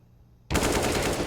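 Automatic rifle fire from the Counter-Strike match BIG vs Fnatic on the map Mirage, a loud, rapid burst that starts abruptly after brief quiet and keeps going steadily to the end.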